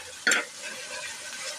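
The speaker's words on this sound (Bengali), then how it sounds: "এটা দিয়ে মশলাটাকে আমি আর কিছুটা সময় ভেজে নেব" A spice masala of turmeric, chilli powder, coriander powder and salt frying in a pan gives one sharp scrape of the stirring spoon near the start, followed by a soft, low sizzle that fades.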